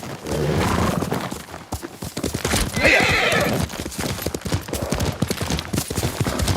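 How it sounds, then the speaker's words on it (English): Horse whinnying and hooves clip-clopping in the video game Ghost of Tsushima, a steady close rhythm of hoofbeats running throughout with a whinny rising in the middle. "Fallen horse. This horse belonged to Clan Adachi."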